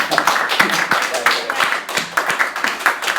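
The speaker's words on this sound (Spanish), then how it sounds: "vamos a primero darle un aplauso a Luis Carlos Reate que nos ha acompañado." Audience applause for a guest author at a writing workshop, a steady patter of many hands clapping for about three seconds with faint talk underneath.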